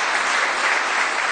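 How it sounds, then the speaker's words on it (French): A dense, steady wash of audience applause greets the Italian guests at a French-language talk on holiness; the clapping is loud and continuous throughout. "on peut les applaudir aussi les Italiens."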